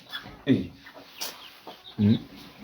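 Chickens cluck around a coop in two loud bursts with softer clucks between, fairly close, while a person talks quietly in the background.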